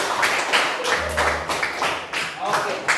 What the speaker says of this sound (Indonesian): terima kasih tepuk tangan untuk kita.